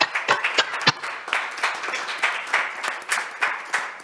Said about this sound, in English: So can we have a round of applause, please, for our panelists today and the presentations that we've heard.